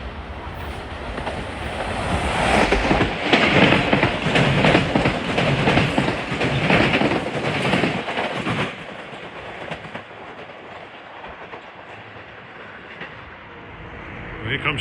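Metro-North commuter train 3546, a high-wheeler running to Stamford, Bridgeport and New Haven, rumbles past with clattering wheels, loud for several seconds before fading to a low distant roar.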